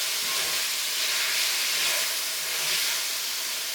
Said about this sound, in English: you need to sear your meat